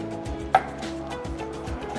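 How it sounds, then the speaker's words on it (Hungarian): A knife finely chops basil on a board in steady, evenly spaced strikes, roughly two per second, close and clear with no talking. "Jó apróra összevágok bazsalikomot"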